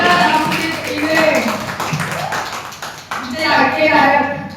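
Clapping from an audience for a singer at a Bhim Jayanti celebration in a housing society, loud nearby claps mixed with voices and background chatter, pausing briefly before resuming.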